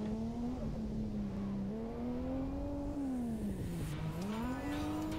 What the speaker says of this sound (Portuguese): Vamos testar o Mark II.